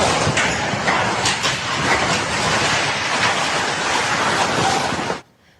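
Violent storm with a downburst tearing through a sports centre with tennis courts in Italy: a loud, continuous roar of wind and driving rain with gusty swells, cutting off abruptly at the end.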